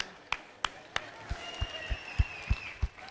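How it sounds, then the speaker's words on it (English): Audience at a Texas robotics invitational clapping for the host team Spectrum, a series of sharp, spaced claps that build into scattered applause with some crowd noise. "Let's give a round of applause to Spectrum for this phenomenal event."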